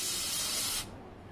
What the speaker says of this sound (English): What we'll do is give these one last spray before